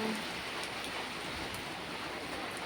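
Steady rain falls in an even, constant patter, soft and fairly distant, with no voices.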